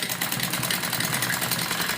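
A sewing machine stitches the hem of an umbrella frock with a steady, fast mechanical whir and rattle, loud and close, running without a break.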